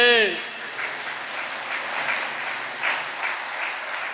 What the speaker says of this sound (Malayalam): ഒന്ന് കൈയർത്തി കൈയടിച്ചേ